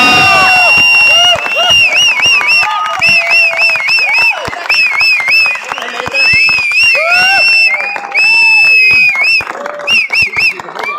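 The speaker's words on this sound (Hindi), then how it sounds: "एक बार जोर से पूरे एक मिनट तक सबके लिए तालियां" An audience at the finale of a Radha Krishna stage show claps and cheers loudly and continuously, a dense crowd roar with whistles and shouts layered over the applause.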